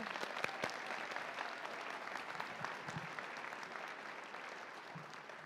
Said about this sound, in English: So let's give him a round of applause, everybody.